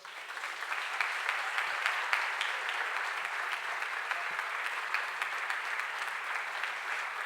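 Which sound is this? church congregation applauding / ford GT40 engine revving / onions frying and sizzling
church congregation applauding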